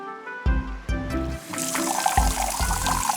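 Water pours from a tap newly fitted onto a pipe in an animated scene, a steady splashing rush that sets in partway through and runs on beneath bright musical tones.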